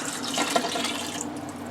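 Chicken broth poured into a cooking pot for Louisiana-style Creole jambalaya, a steady close splashing, gurgling pour that runs for over a second and then tapers off.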